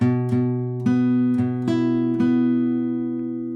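A guitar riff of plucked notes with clear harmonics, six attacks spaced unevenly with one added note, each ringing and decaying, played alone.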